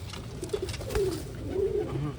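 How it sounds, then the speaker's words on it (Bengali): Pigeons in a loft coo in low, soft, rolling murmurs, close and steady, a few overlapping calls against a faint background hum. "তার আগে অন্য পায়রাগুলো দেখায় এদিকে দেশি জোড়া"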